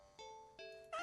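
A cat meows three times in quick succession, each tonal call starting abruptly and the last one loudest, all quiet and with no talking.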